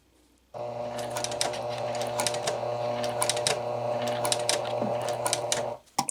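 A sewing machine runs steadily for several seconds, stitching a two-piece collar with stand into a tight corner until the presser foot can go no further, then stops abruptly; close, continuous motor whir with no talking.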